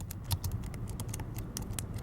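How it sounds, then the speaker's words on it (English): Fast, steady clatter of keys as a college student types homework on a computer keyboard, close and continuous with no talking over it. "Typing away at homework for hours"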